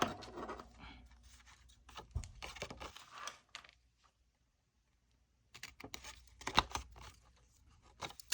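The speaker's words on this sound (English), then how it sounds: "And then this corner here, you're going to cut that out, right?" Paper is cut with scissors to remove a corner, giving soft snips and crinkly rustles in short bursts. There is a quiet pause in the middle before the handling resumes.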